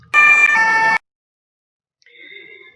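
A loud, close siren blast lasts under a second, then silence, followed by a fainter, higher siren tone returning near the end.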